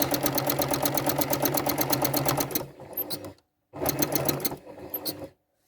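Sewing machine running a quilting seam with a rapid, even mechanical chatter at close range. It stops, then gives a short burst of locking stitches and falls silent.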